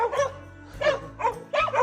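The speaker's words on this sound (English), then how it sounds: "Always getting barked at." A dog in a rural village in Zhejiang, China, barks close by in four sharp, evenly spaced yaps over about two seconds.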